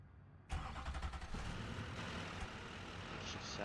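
A truck engine in BeamNG Drive starts up and runs steadily at a loud, even level, with a busy mid-range rumble filling the whole stretch.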